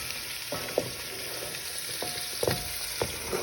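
Onions, peppers and shrimp frying in oil in a pan, a low continuous sizzle punctuated by several sharp clacks of stirring or utensils against the pan, close, no talking.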